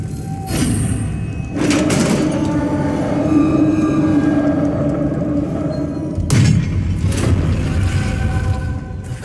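A Confringo blasting spell explodes in Hogwarts Legacy, with a heavy rumbling boom that swells and lingers, followed by a second sharp blast and its rolling decay.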